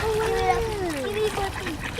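Ducks scramble and splash in water while being fed bread, their wet flapping and paddling close by, with a few quacks and people talking over it.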